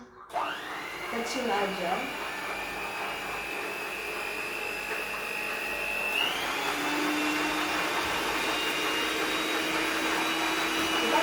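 An electric mixer whirs steadily into banana cake batter with eggs, a loud, close motor whine that starts abruptly and then shifts up in speed partway through, with a brief spoken remark near the start.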